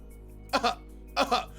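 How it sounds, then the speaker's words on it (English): Two quick pairs of dry, harsh coughs, close up, separated by a short pause over a low steady hum. "My coughing is now out of control."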